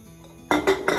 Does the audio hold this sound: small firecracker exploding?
no